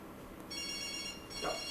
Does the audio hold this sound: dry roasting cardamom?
no